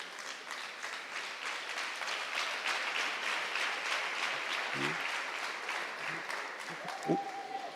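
Sustained applause from an audience standing to clap for head teachers at a national debate championship final, steady and moderately distant, with a few brief voices and tones under it.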